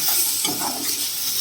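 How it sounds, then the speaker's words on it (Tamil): Tomatoes sauté in a pan with sambar powder and salt, making a dense, continuous sizzle with soft stirring scrapes close up and no voices. "இப்போ இதை நல்லா வதக்கி எடுத்துக்கலாம்"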